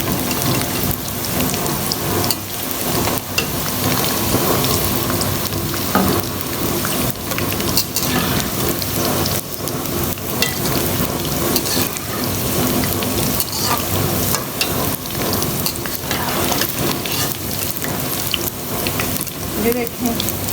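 Okra pieces fry in hot oil, giving a dense, continuous sizzling crackle like heavy rain that stays loud and close throughout, with no speech.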